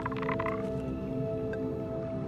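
Rain toad croaking in the video game Caravan SandWitch, a burst of raspy, rapid croaks up front with a fainter call later, over a steady hum of game ambience and no talking.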